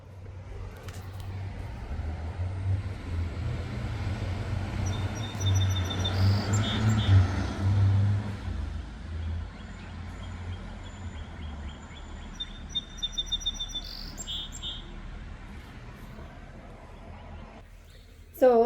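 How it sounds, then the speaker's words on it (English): Small birds chirp in short repeated bursts over a loud, continuous rumble of morning road traffic on a mild, overcast day, with passing vehicles swelling and fading beneath the calls. "Birds chirping over loud, noisy morning traffic, that's okay."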